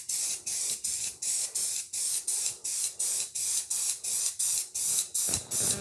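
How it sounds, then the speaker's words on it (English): Spray paint hisses in a steady series of about fifteen short, even bursts as a coat goes onto wooden AprilTag boards, each spray close and loud with brief gaps between. "So I'm going to give this a couple of coats."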